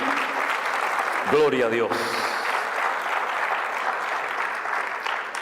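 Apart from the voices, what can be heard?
applause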